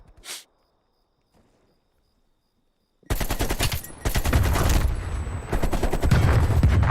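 AK-47 automatic fire in a video game: a short blip and near silence, then from about three seconds a loud, dense stream of rapid shots with brief gaps, continuing to the end.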